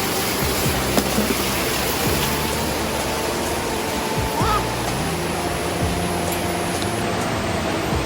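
The Tumpak Sewu waterfall in East Java, Indonesia, roars as a broad, steady wash of falling water that stays constant and fills the whole stretch without a break.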